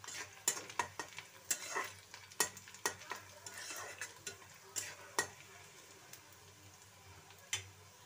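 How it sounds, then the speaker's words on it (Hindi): Onions fry with bay leaves and garam masala in a pan for a mater paneer dish, a soft sizzle under repeated sharp clicks and scrapes of a spoon stirring against the pan; nobody speaks. "अब मैं इसमें प्याज डाल रही हूँ, इसमें गरम मसाला डाल दे रही हूँ।"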